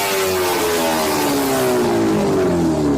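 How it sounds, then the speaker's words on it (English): A supercharged Kawasaki H2R superbike engine screams steadily close by, its high-pitched whining tone sliding slowly lower as it revs. "the H2R, a supercharged superbike that literally sounds like a jet engine"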